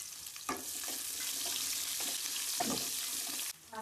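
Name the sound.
curry leaves and chopped onion added to pan, frying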